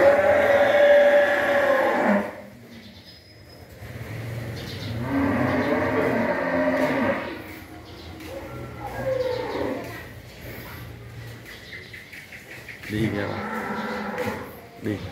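Cattle on a Long An breeding farm of about a thousand head, lowing in several long, loud, close moos with quieter pauses between, with faint bird sounds in the background.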